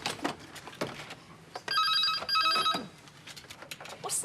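An old telephone bell rings indoors in a 1990 domestic setting, a loud trilling ring in two close bursts after some quiet background shuffling, with no one speaking over it.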